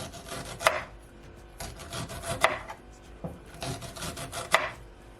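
Knife chopping unpeeled ginger on a board for cucumber juice, three distinct sharp cuts spaced about two seconds apart with quieter scraping and rubbing between them, close and fairly loud.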